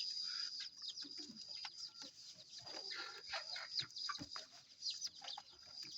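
A caged red junglefowl clucks in short, scattered calls over roughly six seconds. The calls are faint and close, against a constant high insect-like hiss.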